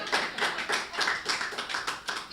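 An audience claps in steady rhythmic applause at a Hindi poetry gathering, a continuous patter of many hands, even in loudness throughout.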